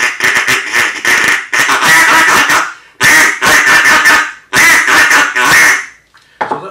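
A handheld duck call is blown to imitate a duck, giving loud, close, raspy quack sequences in four rhythmic bursts separated by short pauses, with no voice over them.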